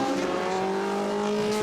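A Formula One car screams past at the Goodwood circuit, its high engine note holding steady and loud for a moment, with a hint of tyre scrub and no talk over it.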